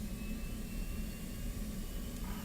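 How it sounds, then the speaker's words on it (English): A fighter jet's engine and APU spin up in a flight simulator game, a steady loud turbine roar and whine holding evenly throughout with no talk over it. "just getting the jet warmed up here. APU, batteries on, APU's on."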